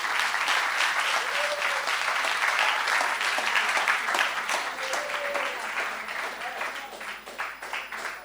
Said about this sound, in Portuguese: peço-vos mesmo uma grande salva de palmas para este nosso convidado